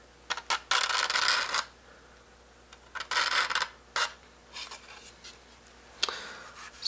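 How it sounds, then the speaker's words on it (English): A scraper rasps along the glue joint of an antique Stainer violin under repair, in short, close bursts of dry strokes separated by quiet gaps and a few light taps. "then scraping the joint to get any stuff that might be impeding it from closing up"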